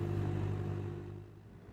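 A heavy snow groomer engine hums steadily at a low pitch, then gradually winds down and fades over a couple of seconds.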